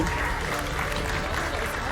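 A crowd at a broadcast production showcase applauds the cast and crew of Making It Crystal Clear, a continuous dense roar of clapping filling the room at even loudness from start to finish.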